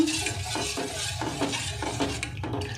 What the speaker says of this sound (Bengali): ওই দুধটার মধ্যে আমি এই ক্যারামেলের জলটা আমি দিয়ে দেব। এবার মিশিয়ে নেব।